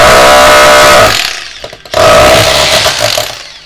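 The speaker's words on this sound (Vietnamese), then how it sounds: "Chức năng đục bê tông này thì cái mũi không có xay anh em, nó chỉ có đục thẳng trực tiếp vào tường thôi" Japanese-market 800 W rotary hammer in concrete chiselling mode, a loud harsh rapid hammering that stops briefly, then starts again and runs steadily.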